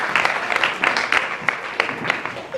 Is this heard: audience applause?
yes